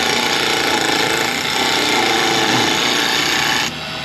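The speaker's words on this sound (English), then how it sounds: "this lathe is about too small to be doing this" A small wood lathe turns a hardwood salt and pepper shaker, producing a loud, steady rasping scrape of a tool cutting spinning wood that drops in level abruptly near the end.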